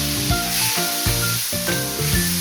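Fish sautés with garlic in a pan, a loud steady close sizzle broken by rhythmic stirring knocks roughly every half second.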